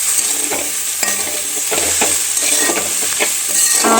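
Taro leaves and potato curry with turmeric fry in a pan while a spoon stirs back and forth, giving repeated close scraping strokes over a constant sizzle, with no talking.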